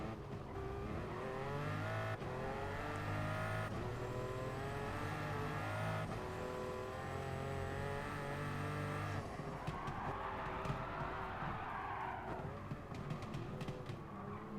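In the racing game Gran Turismo Sport, a midship race car's engine drones and revs continuously, with a burst of sharp crackling backfire pops near the end as the throttle lifts.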